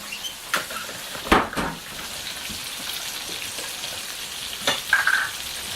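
Turkey cutlets frying in extra light olive oil for a Milanese dish give a steady broadband sizzle, with a few sharper crackles and pops rising briefly above the continuous hiss, alone without talk.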